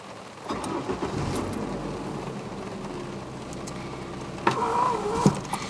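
On a 1995 Ford Escort LX Wagon, an electric power window motor whirs steadily as the glass lowers just a little, in a quiet car cabin with a couple of faint clicks near the end.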